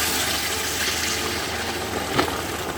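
Steady broadband rush of hot water, about two litres, pouring into a cooking pot for Afghani rice, continuous and fairly loud with no talking, a slight splash near the end.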